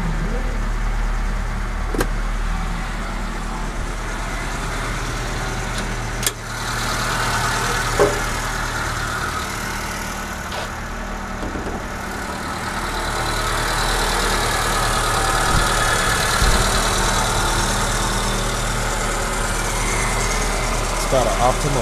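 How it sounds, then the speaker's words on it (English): With the hood open, the engine of a 1986 Suzuki Samurai 4x4 rock crawler runs steadily at idle, a continuous low rumble heard close up for about twenty seconds with a few faint clicks. "The thing runs like a beast."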